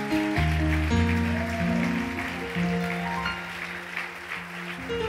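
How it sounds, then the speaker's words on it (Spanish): A church congregation applauds loudly and steadily, a dense wash of clapping running beneath sustained organ or keyboard chords that shift throughout. "Denle un aplauso fuerte a Jesús"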